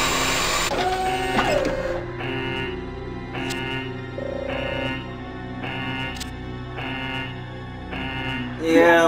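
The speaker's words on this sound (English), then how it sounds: "But now you got a 3D printer" A 3D printer running in the video game Resident Evil Code Veronica X, a loud mechanical whir with repeated stepping tones in a regular on-off rhythm, close and steady with no talk.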